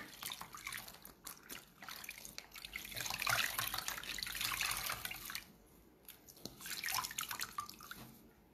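Tap water runs into a sink while someone washes their face, a steady splashing flow with dripping and bursts of sloshing that swell and ease, heard close with no talk.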